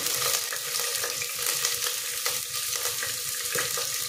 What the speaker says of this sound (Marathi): हा कांदा गुलाबी होईपर्यंत परतायचा आहे